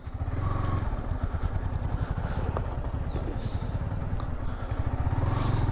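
A motorcycle easing down a slope on a rural village track, its engine thrumming close and steady at low speed with an even pulsing putter and some rattle throughout.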